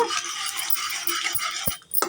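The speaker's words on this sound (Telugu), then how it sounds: "పోపు గింజలు చక్కగా చిటపట్లాడే వరకు" Tempering seeds in hot ghee give a crackling, spluttering sizzle with scattered sharp pops throughout, fairly close and loud, with no voices.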